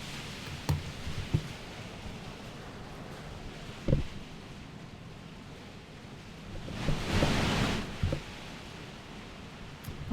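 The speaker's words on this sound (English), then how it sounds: "Wow, it is really raining now." Heavy rain hisses steadily in the background, with scattered knocks and a rumbling swell like distant thunder partway through, all fairly faint and muffled.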